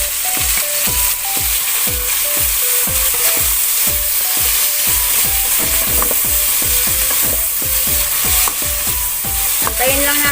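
Tomatoes sautéing in a pan for sinigang na baboy, a steady loud sizzle overlaid with rapid rhythmic clacks of a spoon stirring against the pan.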